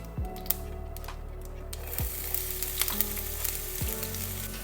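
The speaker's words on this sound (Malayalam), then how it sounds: "അപ്പോൾ ഞാനിവിടെ 1 കപ്പ് സ്ലൈസ് ചെയ്ത് അണിയൻസ് ആഡ് ചെയ്യുന്നുണ്ട്" Sliced onions with mustard seeds sizzling in hot oil, a close, steady hiss broken by a few sharp pops and clinks, rising in intensity after a quieter opening, with no talking.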